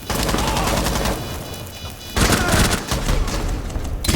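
Pistol fire in a competitive match of a first-person shooter video game, several sharp, loud shots in quick bursts with a short pause near the middle, close and dominating the mix.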